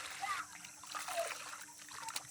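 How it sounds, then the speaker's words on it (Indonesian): Water splashes and trickles as silk yarn dyed blue is rinsed by hand, a steady close wet sloshing with small drips throughout. "Jadi proses membilas ini untuk memastikan yang tinggal di benang itu adalah yang betul-betul menyatu."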